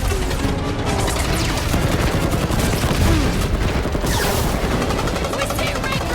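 Dense, continuous barrage of gunfire from Rocket blasting enemies in the Guardians of the Galaxy game, loud and close with no gaps, mixed with crashes and battle noise throughout.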